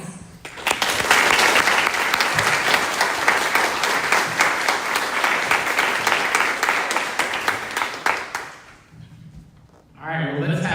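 An audience at a sustainability scholars presentation breaks into loud, dense applause that swells quickly, holds for about eight seconds, then fades out before a voice begins speaking at the end.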